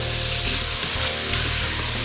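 Bacon sizzling for beef bourguignon in an Instant Pot, a steady close crackle and hiss that runs unbroken through the whole short stretch without talk.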